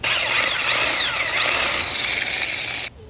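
A power drill bores a hole for a pool fence post. It produces one continuous, loud, close-up whirring grind for about three seconds before stopping abruptly.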